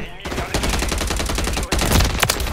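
Loud, close automatic gunfire from a Striker weapon in Modern Warfare 3, firing in rapid continuous bursts with a brief break midway and a few sharper shots near the end.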